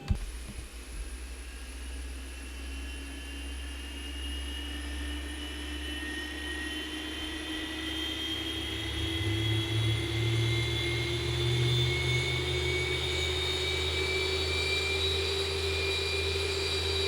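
Simulated airliner jet engines in X-Plane 11 humming and whining steadily while taxiing, a continuous tone with rising pitches that swells slightly louder midway, heard alone with no talking.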